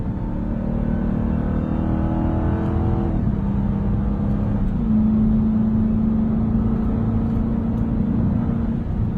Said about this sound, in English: This HELLCAT has a slightly more aggressive exhaust note too.